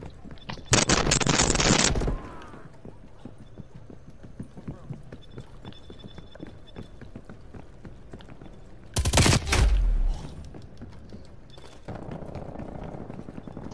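Automatic gunfire rattles in a Black Ops Cold War Gun Game match, two loud close bursts separated by quieter in-game footsteps and background action, with the player talking faintly over it.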